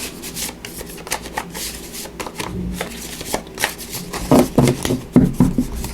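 Tarot cards being shuffled by hand, a dense run of close, crisp riffling and sliding strokes that grows louder and more rhythmic toward the end, with no talking over it.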